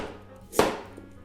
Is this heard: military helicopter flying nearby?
no